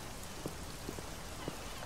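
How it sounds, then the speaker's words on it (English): Rain falling in the Black Mirror II adventure game, a faint steady patter with a few soft drop taps over a low background hiss, no voices. "it's raining. Or it sounds like it's raining"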